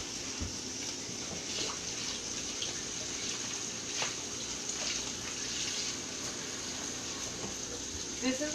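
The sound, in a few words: tap water rinsing cilantro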